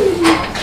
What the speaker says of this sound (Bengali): এখানে চমৎকার আরও এক জোড়া লাহোরি কবুতরের কালেকশন রয়েছে